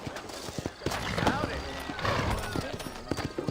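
Horse hooves clip-clop at an Old West town in Red Dead Redemption, a steady walking rhythm of close, moderately loud hoofbeats under a voice and game ambience.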